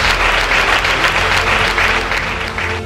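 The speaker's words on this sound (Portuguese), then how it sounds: "Dê um aplauso a ele" Church congregation clapping steadily and loudly through the whole stretch, a dense even wash of hand claps with no voices over it.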